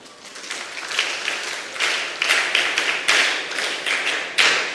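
Audience clapping at a mentorship session, several short bursts of hand claps at a moderate, steady level with no talk over them.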